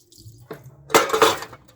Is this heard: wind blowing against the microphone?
no